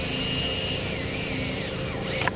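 A power drill boring into a wall whirs steadily at close range, a continuous high mechanical whine with no speech, briefly rising in pitch near the end.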